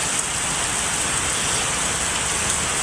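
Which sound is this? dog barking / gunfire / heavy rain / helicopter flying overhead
heavy rain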